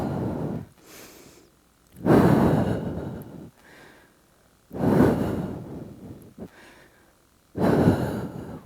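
Deep breaths during a slow yoga-style flow, with three loud, long exhales pushed out from the belly, each followed by a softer, quieter inhale, in an even rhythm with no talking.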